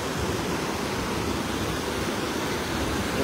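Water gushing over the spillway of the Araras reservoir, a loud, dense, continuous roar of falling water heard close up and steady throughout, with no voices.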